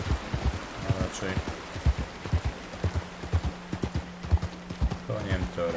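A horse's hooves clip-clopping in Red Dead Redemption 2, a steady, close walking rhythm with rain-like background noise under a person talking.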